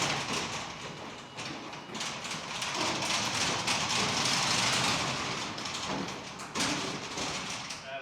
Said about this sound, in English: the motor is pushing down the door.